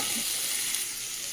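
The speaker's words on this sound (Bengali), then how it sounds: "পেঁয়াজ লঙ্কাটা একটু নেড়ে নিলাম, আর এই যে মাছের তেলটাও দিয়ে দিলাম, দিয়ে একসাথে ভাজা হয়ে যাবে" Onion, chili and crushed garlic sizzle in a little oil with fish oil added in a saucepan, a close, steady hiss with light stirring scrapes underneath and no talk.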